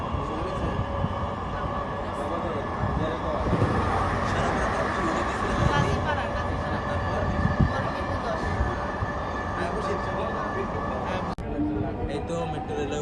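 Inside a moving Dhaka metro rail train bound for Uttara North, a steady low rumble and rolling hum fills the car, with a brief sharp jolt near the end and faint background voices.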